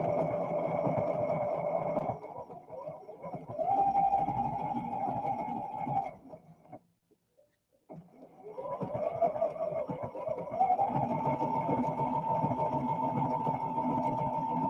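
A sewing machine stitching fabric with black thread, a steady close mechanical whir that runs, stops briefly into near silence around the middle, then resumes at an even pace, with no talking.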